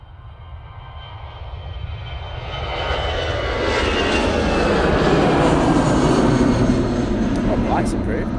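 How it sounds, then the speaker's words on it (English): Airbus A380 jet engines roaring on departure at Manchester Airport on a frosty day, a broad rumbling thunder that swells louder and nearer over several seconds and stays sustained, with a voice talking over it. "Aer Lingus A380 now departing back to Dublin."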